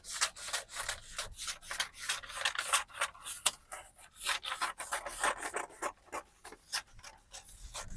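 Scissors cutting fabric for a cowl neck top, close and quiet, with a steady series of short rasping snips and rubbing strokes and no talk.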